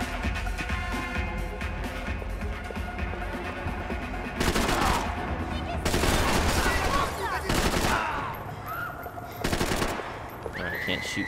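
Uzi submachine gun fire in the video game Max Payne 3: bursts of rapid automatic shots under a steady game soundscape, with several louder clusters of firing near the middle and end.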